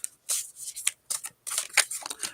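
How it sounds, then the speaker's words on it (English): Bursts of papery riffling as a deck of cards is shuffled in short uneven spurts, close by with brief pauses between. "I'm going to try to shuffle this."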